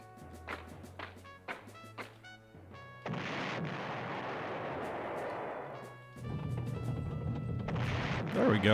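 Tank combat in the PlayStation 1 wargame Panzer General, Italian tanks destroying enemy units: a run of sharp, clipped game sound effects and thumps gives way to sustained loud rumbling bursts of artillery-like fire and explosions.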